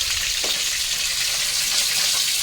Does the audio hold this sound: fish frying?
yes